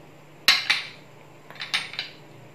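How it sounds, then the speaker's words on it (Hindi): Whole spices such as bay leaf, cinnamon, dry ginger, cardamom, cloves and black pepper drop into a metal pan. A few light, close clinks and rattles come in two small bursts over a quiet background. "काढ़े का पाउडर बनाने के लिए हमने एक पैन लिया है, इसमें हमने जो खड़े मसाले लिए हैं उनको हम डालेंगे"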